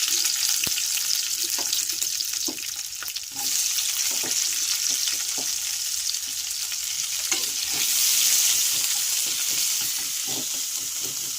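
Chopped onions fry and sizzle steadily in hot oil in a pan, with a constant bright hiss and repeated scraping taps of a spatula breaking them apart, close up and with no talking.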